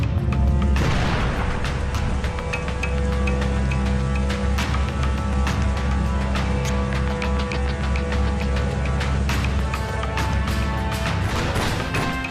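Bombing explosions boom repeatedly, with loud heavy blasts and sharp cracks scattered over a dense rumbling bed of continuous destruction noise.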